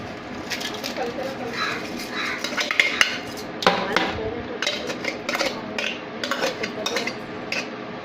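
Cauliflower pickle is mixed with spices in a metal pot, with irregular clinks and scraping clatter up close, birds calling faintly in the background and a person talking.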